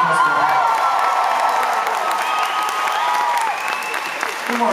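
Concert audience at the Barbican in London applauds and cheers in a dense, steady wash, with scattered whoops and a high squeal rising over continuous clapping throughout.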